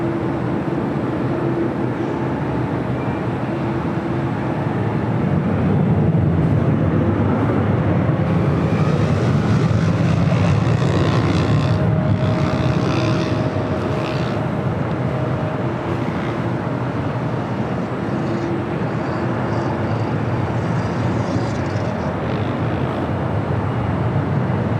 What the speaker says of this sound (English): The Lufthansa Queen next up for takeoff on 24 right